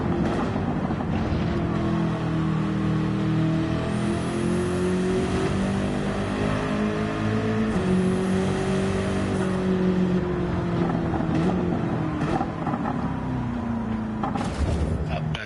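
A race car driven in Gran Turismo 7 on a time trial at The Mountain, its engine note droning steadily and rising and falling through gear changes and corners, with someone talking over it.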